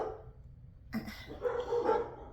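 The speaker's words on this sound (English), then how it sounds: "I wish these dogs would just stop barking right now." Several dogs bark somewhere nearby, a few short broken barks and yips rising in the second half of the moment, moderately loud over a low background hum.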